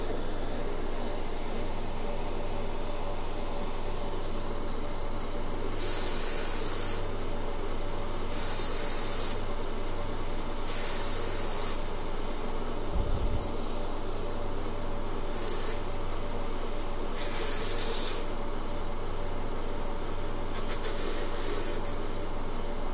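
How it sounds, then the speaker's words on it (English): A belt grinder fitted with a 120 grit belt grinds the outside of a metal katana fuchi, giving a continuous close abrasive hiss punctuated by several brief bursts of harsher contact. "I'm gonna start to grind the outside a bit. This is a 120 grit belt."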